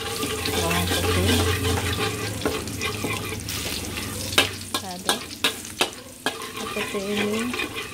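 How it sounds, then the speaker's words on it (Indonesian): Garlic sizzles in hot oil in a pan while cooking mun tahu, a steady frying hiss broken by several sharp clacks of a utensil against the pan near the end. "Kalau sudah panas, kita masukkan bawang putih."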